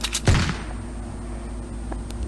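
A single sharp gunshot rings out in the Fortnite video game at the start of the clip and trails into a quiet background hum, with no talk.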